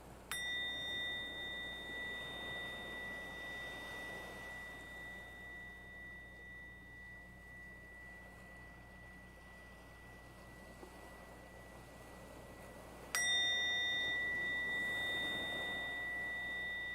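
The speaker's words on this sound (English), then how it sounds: "let's just let the bell call you into your body and into presence right now" A meditation bell rings twice, each strike starting sharply and leaving a long, pure, sustained tone that slowly fades, the second strike coming about thirteen seconds after the first, close and clear over quiet room tone.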